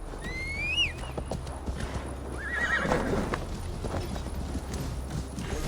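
Horse riding in Assassin's Creed Valhalla: a horse whinnies sharply near the start, then hooves clip-clop at a steady pace over rustling ambience, with a brief second snort midway.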